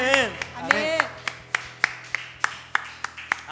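A church congregation claps in steady rhythmic unison after a worship song, sharp regular claps under a singing or exclaiming voice at the start.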